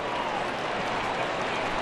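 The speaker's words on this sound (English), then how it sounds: "there's a smattering of clapping from folks clad in orange at that wizardry" Baseball stadium crowd, a scattered smattering of clapping from fans, steady and fairly faint under a broad murmur of crowd noise.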